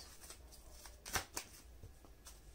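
Tarot cards shuffled and pulled from the deck in a few soft, quick riffling bursts and flicks, close and quiet, with no voices.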